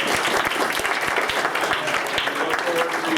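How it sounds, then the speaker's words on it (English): A room full of people clapping steadily, dense and continuous applause at moderate distance, with a few voices mixed in. "let's just give a round of applause to everybody for this."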